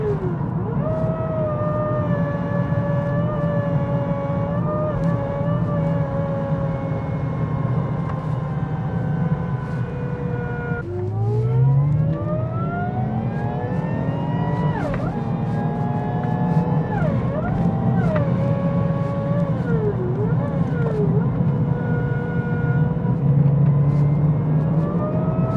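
Supercharged Lexus IS200 (Toyota Altezza) with a Rank One Performance kit, engine droning steadily from inside the closed cabin, revs rising and falling with a whining supercharger tone throughout, no talk.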